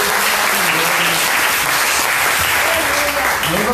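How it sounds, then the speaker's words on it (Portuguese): Continuous applause from a church congregation fills the space, loud and even from start to finish, with some voices audible beneath the clapping. "Vamos aplaudir ao Senhor em nome de Jesus."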